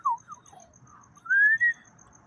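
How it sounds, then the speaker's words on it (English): A person whistles a few short notes, then holds a louder rising tone near the middle before breaking off, heard alone and fairly close. "That was a whistle."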